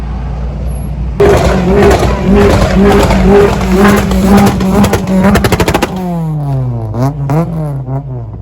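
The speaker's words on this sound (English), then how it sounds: "Just random drag races happening with such heavily tuned cars and supercars and superbikes." Heavily tuned cars drag racing at night in Dubai: loud engines rev hard and roar past close by, tires squeal, and gear changes rise and fall in pitch as a car accelerates away.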